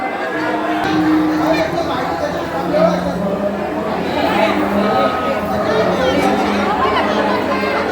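A dense crowd murmurs and chatters continuously at a Janmashtami festival in Koparkhairane village, many overlapping voices at steady loudness filling the space.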